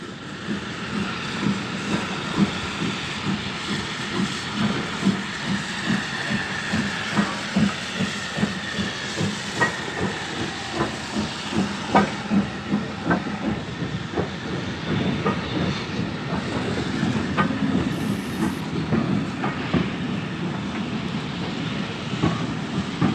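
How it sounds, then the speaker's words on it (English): A Black 5 steam locomotive pulls away from Perth General with an evening passenger service to Forfar and Aberdeen, its steady exhaust beats and clanking wheels filling the scene loudly and continuously, with a hiss of steam and no voices. "a Ferry Hill-based Black 5 leaves with an evening service to Forfar and Aberdeen"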